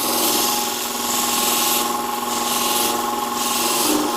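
A Katoku sharpening system grinds the bevel edge of a pair of shears, a loud, continuous abrasive hiss over a steady motor hum, rising and falling slightly as the blade is worked.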